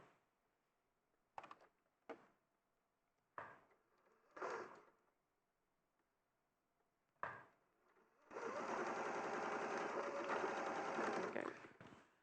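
A domestic sewing machine stitches across the bottom of a seam in a fabric project, first with several short separate bursts and thumps, then running steadily for a few seconds before stopping.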